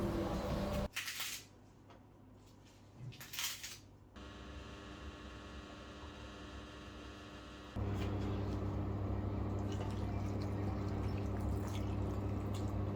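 Freshly boiled water is poured onto instant noodles: short splashing bursts at first, then a long steady hiss and trickle of liquid filling the container, close and fairly loud.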